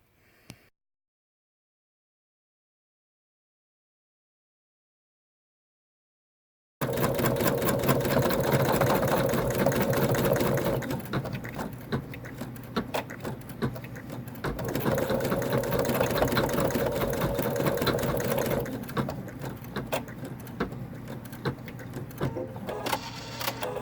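An embroidery machine stitching an in-the-hoop 3D star ornament, a rapid mechanical needle chatter running steadily for most of the span after a brief silence, with slight shifts in pitch as it works.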